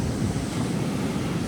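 Big ocean waves surge and crash onto the shore in a continuous loud roar, with wind buffeting the microphone and no voices.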